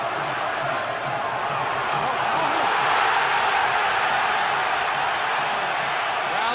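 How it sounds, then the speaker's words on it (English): A large arena crowd roars steadily at the Floyd Mayweather vs Ricky Hatton boxing fight. The cheering is loud and sustained and spreads wide, and a commentator speaks under it. "Crowd thunders its appreciation as Hatton almost gets penalized."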